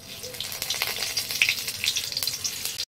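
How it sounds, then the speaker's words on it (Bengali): Cumin seeds and bay leaves fry in hot oil in a home kitchen, giving a steady, bright crackling sizzle with small pops, close and moderately loud, which cuts off abruptly at the end. "এখন তেলটা গরম হয়ে গেছে, জিরে আর তেজপাতা দিয়ে দেবো"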